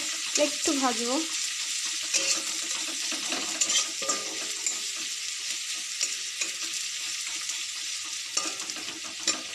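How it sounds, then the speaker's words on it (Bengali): Chopped onions frying in a pan for potato chops, a continuous close sizzle with occasional scraping and stirring clinks and a brief voice near the start. "যে পেঁয়াজটা যেটা একটু ভালো করে লাল লাল করে ভেজে নিতে হবে"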